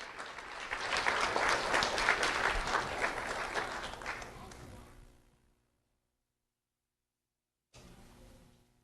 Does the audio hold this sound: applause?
yes